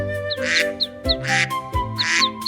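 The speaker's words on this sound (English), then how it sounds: "I could hear ducks quacking" Ducks quack in quick repeated bursts, loud and close, several calls in a row with short pauses.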